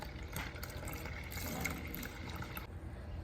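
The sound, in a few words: pouring a little water into ice cream mixture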